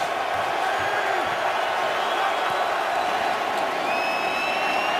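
A packed stadium crowd roars steadily through the fourth quarter of a 2011 NFL game between the Vikings and the Buccaneers, with a dense, unbroken wash of noise at constant loudness and no clear individual voices.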